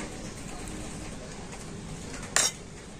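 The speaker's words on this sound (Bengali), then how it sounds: "তো আবারও কিন্তু সমস্ত উপকরণ খুব ভালো করে মিশিয়ে নিচ্ছি।" Sugar, white oil and other ingredients are mixed in a bowl for basbousa, a soft scraping stir under quiet room noise, broken by one sharp clink of utensil against the dish near the end, with no talking.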